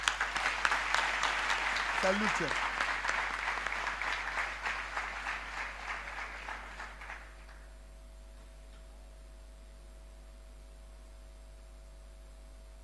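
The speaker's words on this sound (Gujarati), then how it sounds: "એક જોરદાર તાળીઓ આ જે લોકો નીચે બેઠા છે ને ઊભા છે એમના માટે પાડો" A large seminar audience breaks into loud, dense clapping with rhythmic bursts, continuing for about seven seconds before stopping abruptly, with a voice speaking briefly over it near the start.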